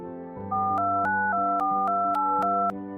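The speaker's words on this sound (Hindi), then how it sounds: "जल्दी जल्दी कोई नंबर डायल किया।" Mobile phone keypad tones as a number is dialed, a quick run of about eight bright, evenly spaced beeps over a low steady tone, close and clear, with no talking.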